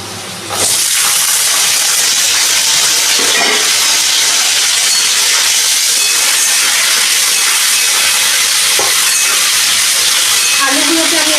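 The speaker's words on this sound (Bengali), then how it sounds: "আলুগুলোকে আমি একটু ভেজে নেব।" Potato pieces hit hot oil already seasoned with dried red chilli and a bay leaf, for a vegetarian papaya ghonto: a sudden, loud, steady sizzling hiss that starts abruptly and holds strong to the end.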